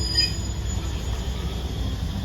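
Train on the Death Railway crossing the Tham Bridge, heard as a steady, loud rumbling roar with a faint high squeal of the wheels, and no talk.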